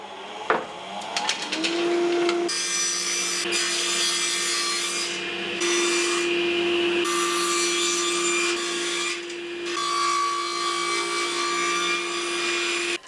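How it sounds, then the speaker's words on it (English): A power saw cuts recycled timber to length for beehive box bases, whining loudly and steadily as it bites through the wood for several seconds, with brief dips in pitch and no talking. "I'm just going to cut it to length, and then after that I'm just going to strip it into the sizes that I want."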